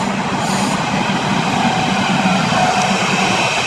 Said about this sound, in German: Jetzt auch noch die S-Bahn.